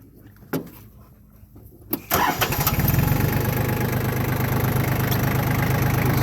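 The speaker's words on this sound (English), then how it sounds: "Get it started up." Yanmar F20D 4x4 compact diesel tractor being started: a couple of faint clicks, then the starter cranks briefly and the engine catches and settles into a steady, even idle, loud and close with no talking.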